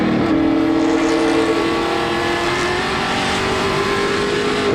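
Pro Stock race cars at Wiscasset Speedway, a loud sustained engine roar with a steady drone that slowly rises in pitch, heard continuously without pause.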